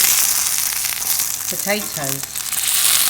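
A chicken burger sizzles and spits steadily in a frying pan, a continuous close hiss with a brief stretch of speech over it partway through.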